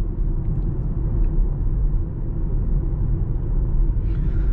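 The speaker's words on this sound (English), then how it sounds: "so that you guys can hear what it's like sitting inside the 2020 BMW X1" Cabin noise inside a 2020 BMW X1 on the road: a steady low rumble of tires and engine with a faint hiss above, even and unbroken throughout.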